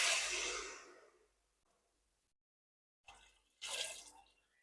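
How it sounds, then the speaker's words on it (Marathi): Water from rinsing a mixer jar poured into a pot of frying chicken curry, starting in a loud splashing rush that fades into quiet, then a second short burst of pouring and sizzling. "सुरुवातीला मी इथे मिक्सरचं भांडं धुवून घेतलं होतं ते पाणी टाकून घेते."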